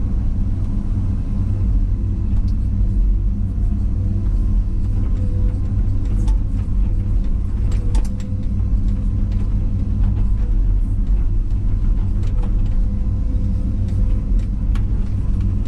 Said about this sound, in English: I'm just trying to scrape the top again, just to get some fresh dirt exposed for the grass seed